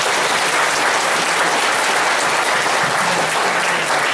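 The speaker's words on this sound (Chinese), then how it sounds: "我们再度鼓掌来感谢他" A dense crowd of listeners claps steadily and loudly to thank the speaker after a university lecture, with sustained applause and no voices over it.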